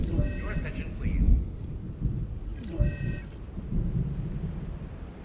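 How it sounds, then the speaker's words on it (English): Rolling thunder from a storm in the video game Jurassic World Evolution 2, low rumbles swelling a couple of times beneath game alert tones and someone talking. "Uh-oh, got a storm."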